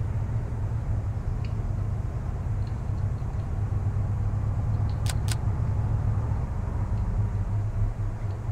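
An armored vehicle in ArmA 3 drives with a steady, low engine rumble and road drone, joined by a couple of faint metallic clicks partway through.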